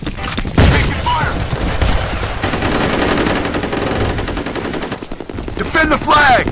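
Dense gunfire from the F.E.A.R. Combat multiplayer shooter, rapid automatic bursts and shots running almost continuously, loud and close, with game voice callouts breaking through now and then.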